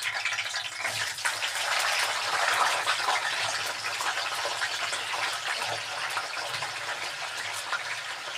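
Continuous bubbling sizzle of potatoes frying in oil, steady and fairly close, with no talking.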